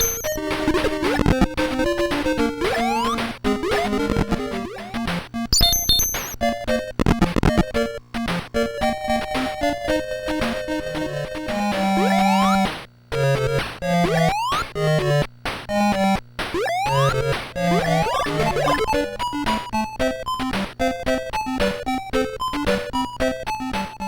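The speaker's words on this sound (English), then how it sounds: "I'm baffled at how many early Master System games use these high-pitched noises, but it sounds awful, especially on modern speakers." Chiptune music and shrill, high-pitched sound effects from the Master System game Alex Kidd in Miracle World, a busy run of beeping tones and rapid blips, loud and continuous.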